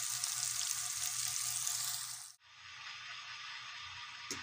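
Pork strips frying in a pan give off a loud, steady, dense sizzle. The sizzle dips sharply for a moment, then carries on a little quieter, with no voices over it.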